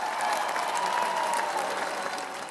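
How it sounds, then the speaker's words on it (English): Sustained crowd applause at the World Men's Curling Championship as Brad Gushue's Canadian rink takes the ice in Ottawa, a steady broad wash of clapping that fades slightly toward the end. "Brad Gushu's Canadian rink drew thunderous applause as they hit the ice for the 9-day event"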